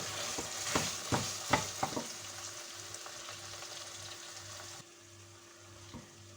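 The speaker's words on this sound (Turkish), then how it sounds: "3-3 dakikada böyle kavuralım." Meat sizzles with tomato paste in a pan, a steady frying hiss broken early by several sharp scraping stirs, then easing into quieter sizzling, with no talk over it.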